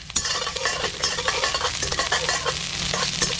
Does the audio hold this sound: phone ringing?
no